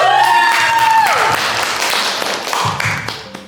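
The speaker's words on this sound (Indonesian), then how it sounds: "Beri tepuk tangan yang meriah" Children at an MC school game session break into applause, a dense, close wash of claps following a brief whistling tone, fading somewhat toward the end.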